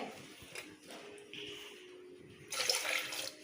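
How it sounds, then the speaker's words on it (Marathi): Water pours into a pressure cooker in short splashing bursts, faint at first and growing louder and fuller near the end. "कुकरमध्ये पाणी घातले"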